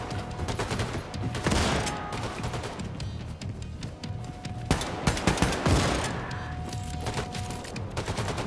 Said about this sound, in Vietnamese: Hai tay hai súng mà bắn quen là nó lợi lắm anh em.